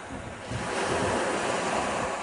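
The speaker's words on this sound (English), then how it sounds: "where the waves are breaking." Ocean waves breaking along a shore in the British Virgin Islands, a steady broadband wash of surf that swells louder after the first half-second and rolls on continuously with some wind rumble, no voices.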